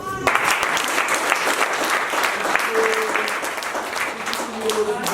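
Audience applause for President Paul Kagame at a community literacy and numeracy event, a steady dense clatter of many hands clapping throughout, loud and sustained with crowd noise.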